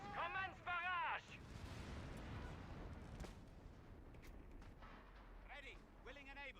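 Artillery barrage in the ARC Raiders video game: a sustained low rumbling roar of distant shelling, with voices talking at the start and end.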